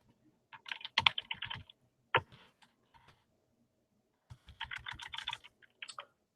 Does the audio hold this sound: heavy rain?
no